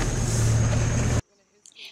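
A 4x4 off-road vehicle engine gives a steady, loud, close rumble that cuts off abruptly after about a second, leaving near silence with a faint noise at the end.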